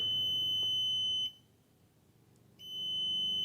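A multimeter's continuity beep while testing a Ford 8N generator, a steady high electronic tone that cuts out for about a second in the middle and then resumes, alone and close.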